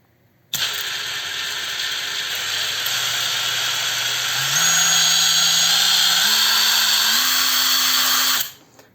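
A DEVETECH CIW-500 cordless impact wrench runs in reverse on first speed, a steady motor whine that starts abruptly, rises in pitch in small steps as the trigger is squeezed harder, then cuts off after about eight seconds.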